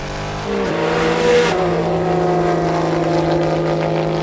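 Porsche 911 GT3 RS race car accelerating hard at a race start, a loud, close engine roar that climbs in pitch, briefly drops at a gear change, then holds a sustained high-revving howl.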